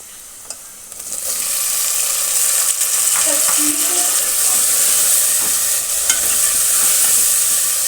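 Steady sizzling and hissing from tomatoes frying in a hot pan with fried onions, continuous and fairly loud throughout, with occasional faint stirring clatter.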